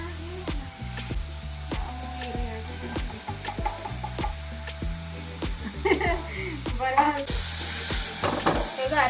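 Two tomatoes sizzle and fry in a pan while a utensil stirs and scrapes through them, steady close frying with occasional clacks and a voice speaking over it.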